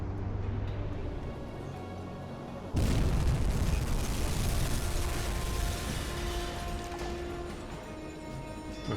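A torpedo strike on an aircraft carrier in the submarine game UBOAT lands as a sudden deep boom, followed by a long, rumbling roar that slowly fades, heard alone.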